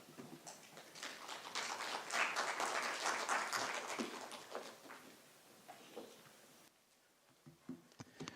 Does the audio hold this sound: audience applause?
yes